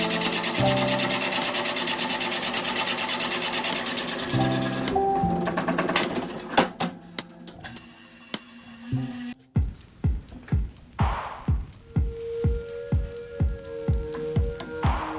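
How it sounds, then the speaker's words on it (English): A drilling machine cuts into a stabilized wood handle blank being shaped for woodturning, giving a loud continuous grinding rasp for several seconds, then a run of evenly spaced sharp cutting strokes close up with no talk. "excise it using drilling machine"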